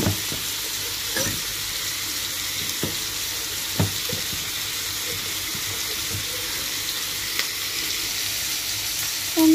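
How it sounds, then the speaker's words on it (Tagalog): Bagoong shrimp paste sautés with tomato in a pan, a continuous even sizzle with occasional soft clicks of stirring, no talking. "igisa na rin natin itong bagoong dyan"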